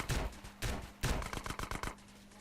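Shotgun blasts and surrounding gunfire in a GTA San Andreas shootout, with three heavy booming shots followed by a rapid burst of sharper shots, loud and close with no talking.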